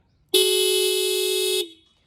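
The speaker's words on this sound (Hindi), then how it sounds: "यहाँ पे हॉर्न है जिसको सुन लिया जाएगा" One sustained honk from a Bajaj Pulsar 150 motorcycle horn, bright and buzzy, held for over a second before cutting off.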